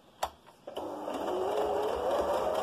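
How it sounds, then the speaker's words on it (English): A sewing machine stitches fabric for a face covering, running steadily and close after a couple of sharp taps, with a continuous mid-pitched whir and no voices. "So I'm just going to sew over those pins."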